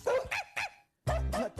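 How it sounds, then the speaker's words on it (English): A six-year-old Chihuahua Dachshund mix barks in quick, sharp, high yips: a fast run of three or four close barks, a brief pause, then a few more loud barks. "this adorable 6-year-old Chihuahua Dachshund mix leap, snatch, and sprint to make the stop"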